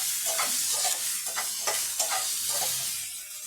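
Vegetables with carrots sauté in a hot pan, a close, steady sizzle broken by scraping stirs at a regular pace, with no voices.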